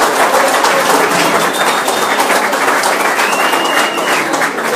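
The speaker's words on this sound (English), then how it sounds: "Give them a big round of applause, please." Loud, sustained applause from a large audience fills the whole stretch, dense and even, with no break.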